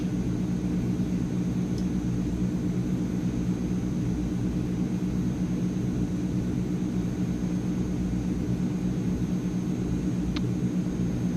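Transall C160 military transport engines drone in Microsoft Flight Simulator, a steady, dense turboprop roar with no break, loud and unchanging throughout.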